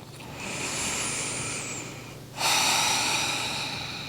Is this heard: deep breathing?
yes